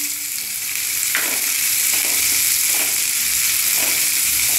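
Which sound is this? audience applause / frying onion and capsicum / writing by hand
frying onion and capsicum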